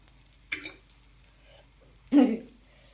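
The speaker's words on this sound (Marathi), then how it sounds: "आता तेल टाकते ती" Oil poured onto a dosa on a hot pan gives two short bursts of sizzling, the second louder and fuller, separated by near silence with faint background murmur.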